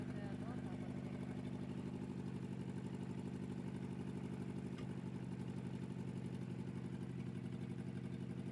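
A 1987 Nissan 200SX S12 engine idling nearby with a steady, even, throbbing drone that holds constant throughout.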